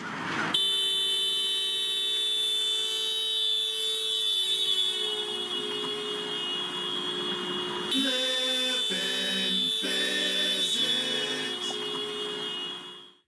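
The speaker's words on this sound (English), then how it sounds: "Perhaps you are already familiar with how the Doppler effect sounds." Doppler effect demonstration: a steady, buzzing horn-like tone with many harmonics sounds continuously. Partway through, its pitch shifts as the source passes, then the tone fades out. There is no speech.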